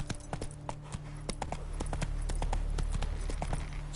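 Hooves of the horse Roach in The Witcher 3 clopping at a quick, regular gait on the ground, close and clear over a low game ambience.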